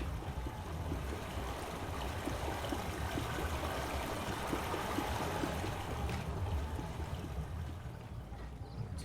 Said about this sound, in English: So it's clearly water, but you can hear that it's not actually going through the pipes.